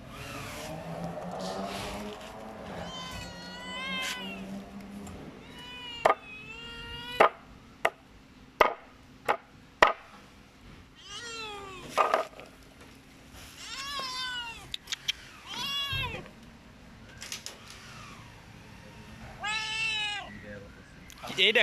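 A hungry cat begging for fish meows loudly and repeatedly up close, in drawn-out wavering calls mixed with sharp taps and clicks, while a person talks over and between the cries.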